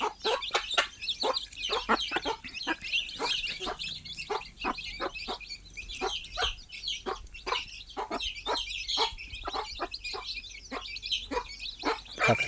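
Many small birds chirping and clucking in quick, irregular bursts, a busy flock of chicks close by with a faint low background hum.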